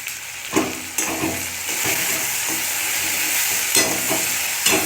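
Meat curry stirred and fried in a pan, a steady close sizzle with scraping spoon strokes at irregular intervals and a few sharper clinks, with no voices.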